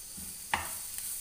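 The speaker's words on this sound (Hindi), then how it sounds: "साथ साथ मिक्स करके इसको अच्छी तरह भून लें" Garlic-ginger paste with black pepper, cumin powder and salt fries in a pan, giving a faint steady sizzle broken by a couple of soft scraping stirs, quiet and close.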